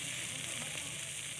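Fish frying in a small amount of oil over low heat in a village kitchen, giving a steady, close, even sizzle that holds without pause.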